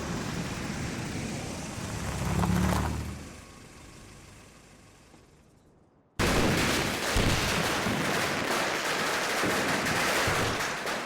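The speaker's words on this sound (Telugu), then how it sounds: "ఏ పిచ్చోడ్ల టపాసులు పేల్చేది?" At a wedding, a loud burst of rapid crackling firecracker bangs fires off, fades, then after a brief silence a dense string of popping explosions continues steadily.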